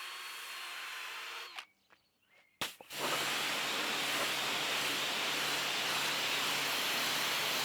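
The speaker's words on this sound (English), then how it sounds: "I then used my pressure washer to blast away all that chemical and the dirt that had been lifted." A loud, steady hiss of a high-pressure water jet rinsing a car interior, briefly cut off for about a second before roaring back on and continuing strongly.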